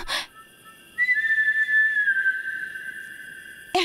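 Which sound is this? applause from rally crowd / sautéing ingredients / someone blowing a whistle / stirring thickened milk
someone blowing a whistle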